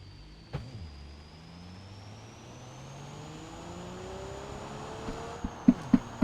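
A 554-horsepower tuned car in the BeamNG driving game accelerating at high speed, a steady engine drone rising slowly in pitch, with a few sharp clicks near the end and no talk.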